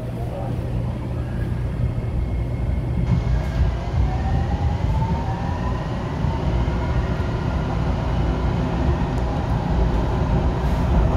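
Riding aboard a Miami Metrorail train between Dadeland North and Government Center, a loud continuous rumble of wheels on track and motor whine rises in pitch as the car accelerates, with faint voices now and then.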